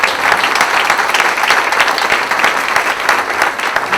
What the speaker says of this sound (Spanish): Quisiera pedir un aplauso para las compañeras de la Dimensión